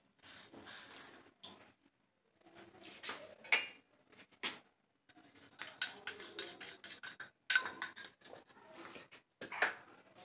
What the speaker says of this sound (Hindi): अब इसको अच्छे से चलाते रहेंगे।